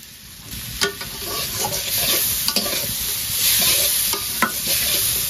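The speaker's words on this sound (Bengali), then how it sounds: "মরিচ আর পেঁয়াজ দিয়ে নিব ভাজা।" Chili and onion fry in a pan for a village-style goat meat and papaya curry, giving a steady close sizzle with a few sharp clinks of stirring at intervals and no talk.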